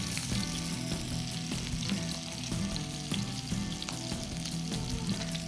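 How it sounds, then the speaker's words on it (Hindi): Chicken chullu kabab balls fry in hot oil, giving a steady close sizzle with crackling pops and the occasional stir, without any talking. "इसको हम थोड़ा सा बहुत जल्दी फ्राई हो जाते हैं ये।"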